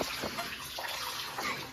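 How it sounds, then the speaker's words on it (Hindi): Water from an automatic sensor tap at an institute washroom runs in a steady, close hiss for the whole stretch, with no talking over it. "जादू से पानी आ जाता है।"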